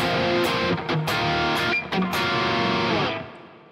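A distorted electric guitar plays chords and a short lead phrase, thick and saturated, then rings out and fades near the end.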